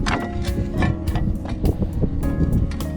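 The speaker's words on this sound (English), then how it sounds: "The wind is really blowing." Strong wind gusting outdoors beside a newly built outdoor kitchen deck on a farm, loud buffeting microphone rumble that surges and drops in bursts, with no voices.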